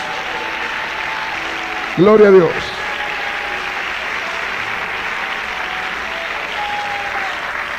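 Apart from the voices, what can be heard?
applause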